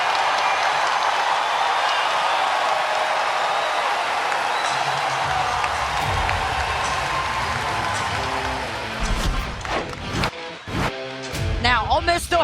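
Basketball arena crowd at an NCAA women's tournament game between Ole Miss and Stanford cheering during a timeout, a steady loud roar with scattered applause that thins out, followed by some sharp nearby sounds and talk.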